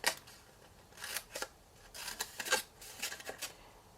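Scissors snip through Stampin' Up! Moroccan paper, cutting it into small squares in a quick run of crisp, close, fairly quiet cuts, some in short clusters, with no speech.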